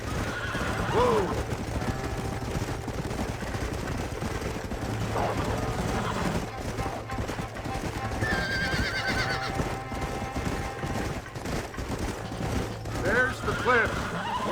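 Horses whinny and their hooves clip-clop on a trail in the video game Red Dead Redemption, mixed with mechanical game effects, while voices talk over the continuous ride.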